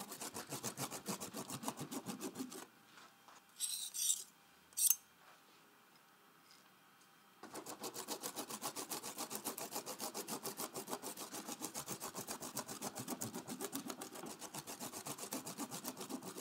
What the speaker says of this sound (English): Now add half the pine nuts and continue to chop.